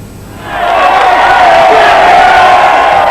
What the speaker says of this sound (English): The crowds were out on the 15-mile Potteries tour to greet with real delight a side that's won many new friends this season